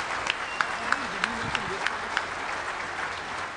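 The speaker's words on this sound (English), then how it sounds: "Give them a round of applause." A crowd claps at the closing ceremony of a hacking conference, a steady spread of applause with a few louder individual claps rising above it, heard over a brief voice.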